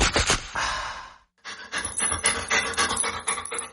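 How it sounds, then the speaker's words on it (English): A family dog panting in rapid, breathy bursts close to the listener, with a brief pause before the quick rhythmic huffing resumes. "this might sound like a typical family dog"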